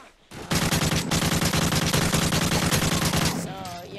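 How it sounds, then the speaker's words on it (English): Rapid automatic gunfire from a gun in a video game, a sustained burst of closely spaced loud shots lasting about three seconds and then stopping abruptly. "as you can see, I'm kind of inaccurate with this gun. It's hard to control for me."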